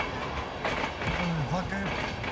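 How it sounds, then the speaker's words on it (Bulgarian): A BDZ passenger train from Petrich rolls past nearby with a constant loud rumble and faint clattering of wheels, while a voice speaks briefly over the noise. "Влака от Петрич, БДЖ, точно до разкопките."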